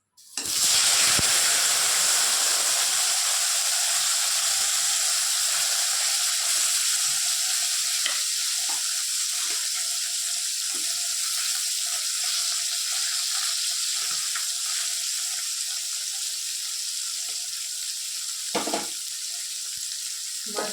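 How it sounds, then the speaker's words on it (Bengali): Taki fish fry in hot mustard oil in a heated wok, a loud steady sizzle running unbroken throughout with occasional stirring knocks. "মাছগুলো ভাজা হতে থাক"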